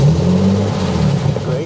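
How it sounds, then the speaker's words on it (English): A TVR 3000M engine runs close up with a steady, throbbing mid-pitched idle that wavers slightly, while a person talks over it. "So let's start the engine and see what it does."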